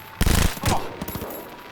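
Automatic gunfire in Cyberpunk 2077 rattles out in a quick close burst, followed by a few scattered fainter shots as the shooting tails off.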